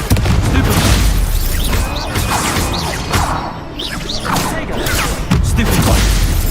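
Confringo, a blasting spell in Hogwarts Legacy, bursts through a loud, dense battle of crashing blasts, whooshes and clattering impacts that runs continuously with no clear pauses.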